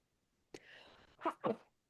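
A person sneezes once during a relaxed podcast conversation, a sharp burst followed by a short drawn-out breath, then two quick loud vocal bursts close to the microphone.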